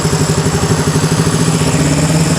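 A 1974 Honda CB360 motorcycle engine idling up close, a loud, steady, rhythmic low putter with a slight mechanical clatter, running evenly with no talking.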